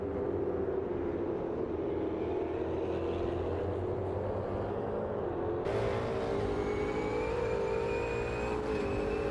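Ultima GTR race cars at Termas de Rio Hondo in Automobilista 2, with a loud, continuous engine drone and whine that shifts pitch as the cars pass and accelerate, sounding close throughout.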